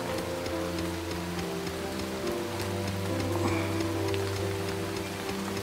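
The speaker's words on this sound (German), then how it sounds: "Solange es da draußen regnet, möchte ich nicht raus." Steady rain falls outside in the Starbound video game, a constant hiss of drops heard alone and at an even level beneath a low musical drone.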